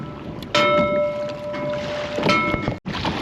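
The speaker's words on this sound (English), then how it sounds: "It's definitely a lot windier than I thought it was gonna get, but we're gonna try and make it back." Strong wind buffets a small fishing boat out on open ocean water, a steady roar of gusts and wind noise against the microphone with water slapping beneath, continuous and close, briefly cutting out near the end.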